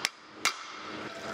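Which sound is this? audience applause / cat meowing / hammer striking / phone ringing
hammer striking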